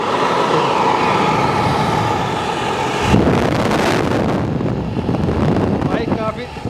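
An old car blower fan, rigged as a homemade air blower, switches on and roars with a steady broadband rush of air that jumps in intensity partway through, with someone talking over it.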